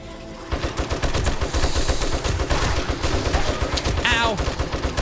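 Sustained rapid gunfire in the survival video game 7 Days To Die, loud and close, with dense repeated shots running almost continuously after a brief quiet start.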